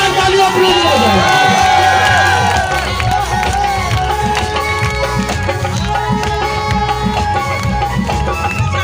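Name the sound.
concert crowd applauding and cheering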